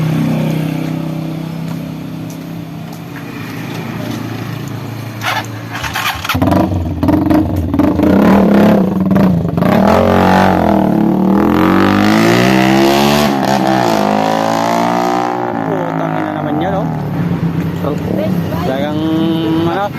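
Motorcycle with a leaking exhaust, its engine revving and popping with a rough, crackling tone that rises and falls over twenty seconds. People talk nearby and shout over the engine.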